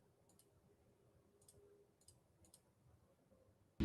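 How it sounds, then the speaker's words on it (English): Several short button clicks in quick succession during a live online stream, faint and isolated over a low background hum, followed by a brief louder bump at the end. "Who's clicking buttons?"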